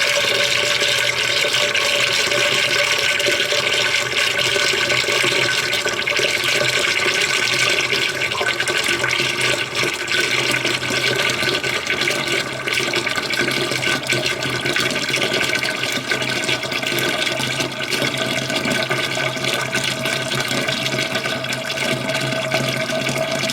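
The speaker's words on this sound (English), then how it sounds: "once it's done draining, we'll put some water over top all the grain and wash them out again until we collect about 6 gallons into this fermenter" Corn moonshine mash liquid drains steadily into a fermenter, a continuous close splashing and trickling pour that holds even throughout, with no talking.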